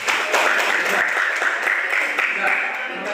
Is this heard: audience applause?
yes